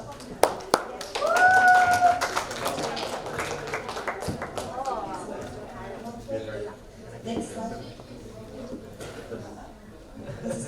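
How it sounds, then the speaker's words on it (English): An audience at a youth summit claps in a short burst of applause, with scattered claps and taps under a hum of talking voices in a large hall. "Please give applause."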